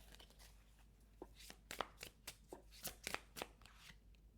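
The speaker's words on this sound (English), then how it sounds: "I'm gonna shuffle again because it's too many cards" A deck of tarot cards is shuffled by hand in a quiet room, producing a run of crisp, uneven riffling snaps and slaps that grow busier toward the end, close and fairly soft, with no talking.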